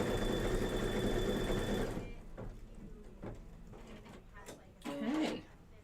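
A sewing machine quilting a pillow runs in a steady, close buzzing hum for about two seconds, then stops, leaving faint clicks and handling noises.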